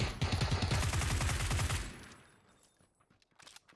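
Rapid automatic gunfire in PUBG rattles out in a loud, close burst for about two seconds, then cuts off and leaves a few faint clicks and a fading tail.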